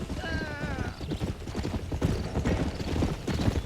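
Horse hooves clip-clopping at a steady trot in the Red Dead Redemption video game, continuous and fairly close, with a brief whinny near the start and game dialogue and ambience mixed underneath.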